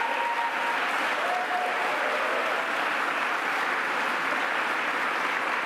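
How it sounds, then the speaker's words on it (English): Sustained audience applause in a hall during a New York governor's infrastructure announcement in Buffalo, a steady dense wash of clapping that stays even and loud for the whole stretch with no talk over it. "So let's give her a round of applause as well."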